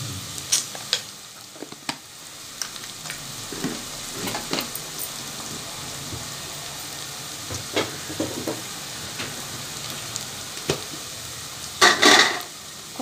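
Prawns fry and get stirred in a pan for a telagapindi curry, with steady sizzling and a scattering of scraping stir strokes and utensil clinks, including a louder flurry of clatter near the end.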